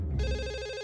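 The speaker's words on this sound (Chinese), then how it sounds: "这么早，谁的电话呀？" A telephone rings loudly and alone early in the morning in a forest cabin in a Boonie Bears cartoon, one sustained electronic ring tone starting after a brief lead-in.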